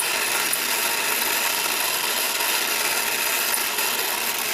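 A torch heats a broken bolt with a steady, loud, broadband roaring hiss that holds constant throughout, with no speech or pauses.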